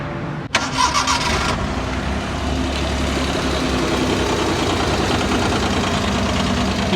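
A second-hand, modified Maruti Suzuki 800 car cranks briefly and fires up, then settles into a steady, close idle for several seconds with no talking.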